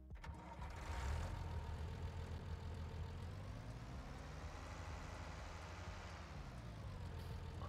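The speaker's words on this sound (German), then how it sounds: "Wir starten mal den Motor, hört mal hin." An IHC 86 Series tractor in Farming Simulator 19 cranks and starts with a rising rumble, then settles into a steady low idle, with no voices.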